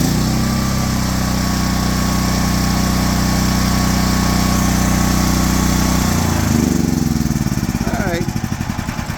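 A Predator 13000 watt generator running on propane in idle-down mode, a loud steady engine drone that shifts and settles as the governor changes speed toward the end, with a voice talking under it.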